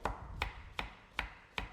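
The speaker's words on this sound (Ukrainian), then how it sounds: "для початку ми нашу морквочку нарізаємо" A knife chops carrot into small cubes on a board, five crisp even strikes about every 0.4 seconds, close and clear with no talk.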